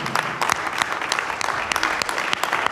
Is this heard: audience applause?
yes